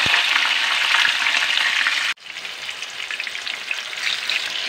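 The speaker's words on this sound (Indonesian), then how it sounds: "bawang merah, bawang putih, cabai, tomat kita masukkan, kita goreng ya" Shallots, garlic, chili and tomato sizzle loudly in hot oil for sambal, a steady dense crackle that dips briefly when stirred and then settles back into continuous frying.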